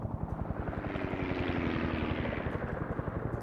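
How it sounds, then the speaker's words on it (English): A helicopter in the Vietnam War video game Arma SOG Prairie Fire drones loudly and steadily with a rapid rhythmic rotor chop, close and unbroken throughout. "I completely missed it over the sound of the helicopter"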